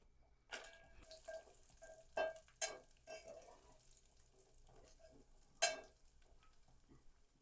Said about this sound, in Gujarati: આપણું ઘી ગરમ થઈ ગયું છે, એની અંદર કાજુ તળી લઈશું.